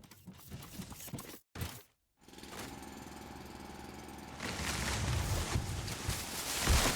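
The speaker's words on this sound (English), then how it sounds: "They lowered the volume of the drill" A drill in the factory-building video game Foundry grinds in a rough, continuous mechanical roar. It cuts out for a moment early on, then returns and grows louder and denser toward the end, with no voices over it.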